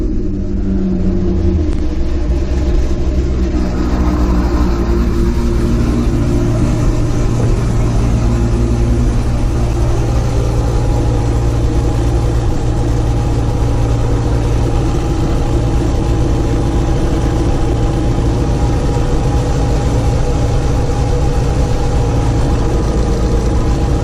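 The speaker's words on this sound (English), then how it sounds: "let's fire the car up and make sure that fuel line's not leaking" A 2005 Chevrolet Corvette with a newly installed flex fuel sensor cranks and starts, briefly revving before settling into a steady, deep, rumbling idle that continues loud and close for over twenty seconds.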